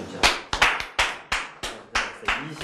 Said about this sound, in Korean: 우리 또 박수 쳐주자.